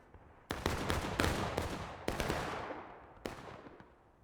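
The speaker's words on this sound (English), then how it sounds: "Here's 8th Georgia NGB putting in some fire." Musket volleys crackle in War of Rights as Civil War infantry of the 8th Georgia fire independently, a series of loud sharp reports with ringing decay, several shots close together then a last one after a pause.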